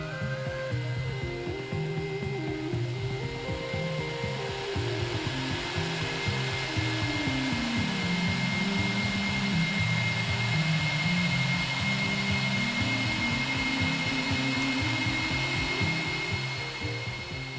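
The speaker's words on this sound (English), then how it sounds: "I'm going to be using a heat gun that can reach up to 250 degrees Celsius" Heat gun rated to 250 °C blowing steadily on 3D-printed rocket nose cones, a loud continuous airy roar with a motor whine that holds throughout without pause.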